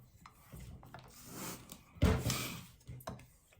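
A straight razor is drawn in X strokes across a honing stone, making soft rasping swipes that rise and fall in separate strokes, one louder than the rest about two seconds in.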